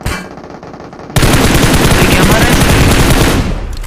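Sustained burst of machine gun fire in the battle royale game BGMI, loud and continuous after a quieter opening, rattling steadily for nearly three seconds before easing off.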